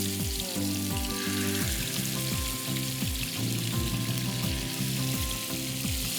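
Chicken kebab skewers sizzling in hot oil for a Turkish sheekh kebab, a steady loud crackle with repeated clinks and scrapes of metal skewers or utensils, close up with no voices.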